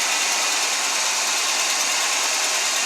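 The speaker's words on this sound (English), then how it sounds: "So here's our misfire." A Chevy/Buick/Pontiac engine idles with a misfire, giving a steady, close, hissy running sound with a faint uneven roughness and no talk.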